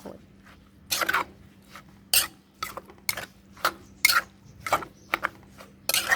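Shredded papaya going into a mortar for Thai som tam with salted egg gives a series of close, sharp crunchy knocks and clatters at irregular intervals over a quiet background hum.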